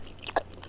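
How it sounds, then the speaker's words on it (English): Someone chews fruit candy up close, with a single sharp bite and crunch in the middle of a short, quiet stretch of soft mouth sounds; no talking. "it's just chew noises"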